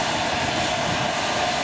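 Boeing 727 jet engines roar steadily and loudly at an airport, a dense broadband rumble with a high whine that holds unbroken for the whole stretch, with no voices.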